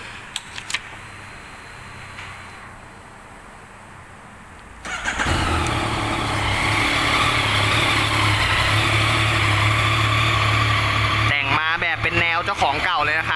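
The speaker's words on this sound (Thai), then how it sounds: "เดี๋ยวผมจะพาไปฟังเสียงเครื่อง SSR 900คันนี้จะเป็นอย่างไรบ้างไปฟังกัน" Engine of a 2018 Yamaha XSR900 ABS motorcycle starts up and runs at a steady idle, a loud, continuous rumble, with a brief voice near the end.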